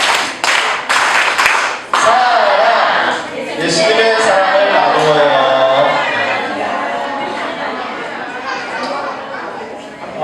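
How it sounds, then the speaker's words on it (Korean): A church gathering claps hands together in a short burst of rhythmic claps, then the room fills with overlapping chatter and voices as the clapping stops. "우리 사랑 박수."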